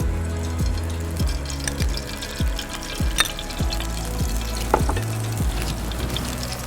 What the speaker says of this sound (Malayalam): ചട്ടി ചൂടായിട്ടുണ്ട്, നമുക്കതിലേക്ക് കുറച്ച് നെയ്യ് ഒഴിക്കാം.